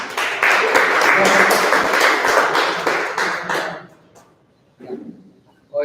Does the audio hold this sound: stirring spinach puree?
no